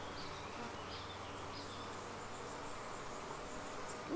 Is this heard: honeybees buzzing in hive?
yes